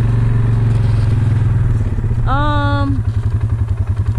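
A motorcycle with a loud muffler rumbles close by, its deep steady engine note growing rougher toward the end, with a brief tonal whine partway through.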